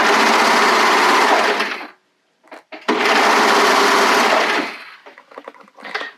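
A sewing machine stitches picot elastic onto a bodysuit in two loud, close, sustained runs separated by a short pause, followed by softer fabric handling and brief machine clicks.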